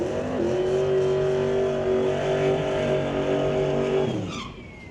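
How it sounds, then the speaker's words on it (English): A 2000 Ford Mustang drag race car at a racetrack holds a loud, steady engine roar and tire squeal through its burnout, then the sound drops away sharply near the end. "Up against Chris Gould, completing the burnout, his 2000 Ford Mustang."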